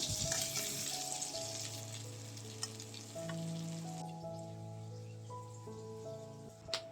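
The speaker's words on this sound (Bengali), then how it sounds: "আমি এখানে সেম প্রসেসে করলাগুলোকেও ফ্রাই করে নেব" Bitter gourd fries with dry ground spices in a steady, crackling sizzle, broken by a few sharp clicks of stirring, with a faint tonal background running underneath.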